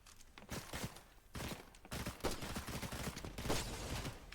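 An outlaw pistol fires rapidly in a video game, with dense, loud shots packed closely together in continuous overlapping bursts. A faint voice may sit under the gunfire.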